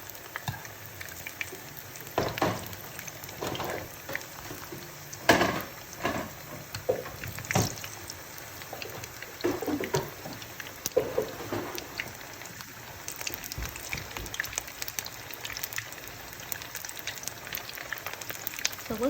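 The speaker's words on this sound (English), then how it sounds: "So when you're frying plantains" Soft, steady crackling and sizzling of plantains frying in hot oil, with scattered pops and occasional clinks, faint and continuous throughout.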